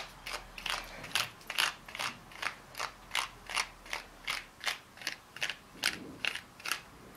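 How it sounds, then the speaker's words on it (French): Small brush pulled repeatedly through hair, a steady series of crisp bristle strokes about twice a second, close and fairly loud, with no talking. "On va prendre une petite brosse. On va peigner, brosser."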